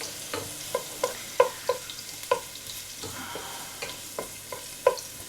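Ginger sautéing in a pan for chicken tinola, a steady low sizzle broken by a series of sharp clinks and scrapes as a utensil stirs and taps the pan, close by with no talking.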